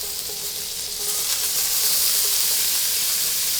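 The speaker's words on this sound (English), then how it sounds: "I'm going to add the chopped red pepper" Chopped red pepper hits a hot pan with a loud, continuous hissing sizzle that swells and holds steady, close up and without talk, while cooking low country shrimp and grits.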